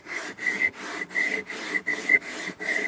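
A wooden guitar neck core is planed by hand in quick, rhythmic strokes, about eight rasping passes with short pauses between, close and fairly loud with no talking.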